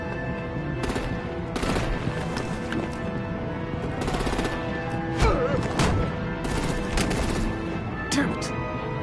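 Artillery gunfire in Batman: The Enemy Within, with dense, loud bursts of shots and booming impacts that run continuously under overlapping music and battle noise, close and intense.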